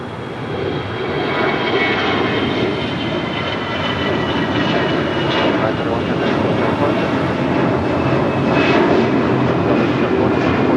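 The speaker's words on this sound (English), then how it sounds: "The second Air Tahiti Nui Dreamliner about to touch down on 25 left." An Air Tahiti Nui Dreamliner comes in to land on runway 25 left at LAX, producing a steady, loud engine roar under talk and radio chatter.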